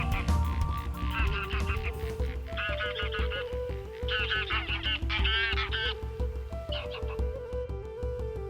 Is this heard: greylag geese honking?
yes